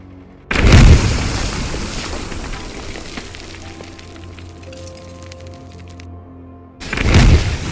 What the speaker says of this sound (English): As you can see, when deployables explode, they now have a lot more smoke, particles and debris.